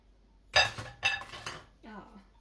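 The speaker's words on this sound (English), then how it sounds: "we're going to put this in a bowl with a lid on" Pizza dough set into a lidded bowl in a home kitchen, a few close clinks and knocks of bowl and lid in quick succession, then a softer scrape, with quiet moments between.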